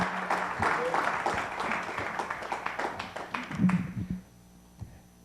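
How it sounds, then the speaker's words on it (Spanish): A church congregation applauding during a Spanish-language service: loud, steady clapping with a voice calling over it, fading out abruptly after about four seconds. "Denle un fuerte aplauso al Señor."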